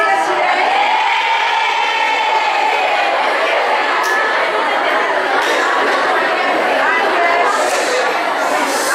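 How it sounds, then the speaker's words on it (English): A large crowd of first-year education students at an international college conference fills the room with continuous, loud overlapping chatter, with occasional cheers and shouts rising from the din. "And now you see a big crowd there."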